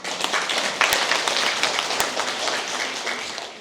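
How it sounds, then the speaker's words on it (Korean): Applause from an audience of seniors at an elderly jobs and social activities launch ceremony and dementia-prevention class in Hongcheon, a dense steady patter of many hands clapping for several seconds in a hall. "박수 한번 보내드리겠습니다"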